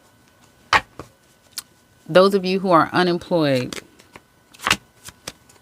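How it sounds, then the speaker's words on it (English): Tarot cards are shuffled in a few sharp riffling bursts close by, separated by pauses, while a person speaks briefly in the middle. "I hope this shuffling is not driving anyone crazy."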